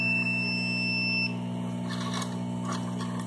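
A multimeter in continuity mode beeps across a shorted capacitor on a Moto G2 phone board: a steady high electronic tone holds for about a second and then cuts off, leaving a low hum and faint clicks.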